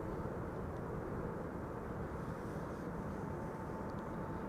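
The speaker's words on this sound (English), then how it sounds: "And that's a regular Embraer 195, not an E2 Embraer 195. Arrival from Warsaw" A LOT Embraer 195 airliner, the regular version rather than the E2, arriving at Schiphol from Warsaw: a steady, broad jet rumble that holds even and fairly loud throughout, with no voices.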